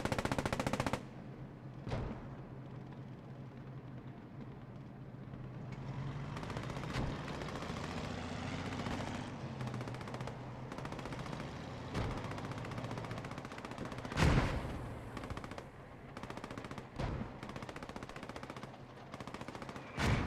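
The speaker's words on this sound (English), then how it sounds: "Panther blinding, firing blind through the smoke." Panther tank firing blind through smoke in Post Scriptum, a WWII game battle: continuous rumbling gunfire and machine-gun bursts with several loud cannon-like blasts, dense and close throughout.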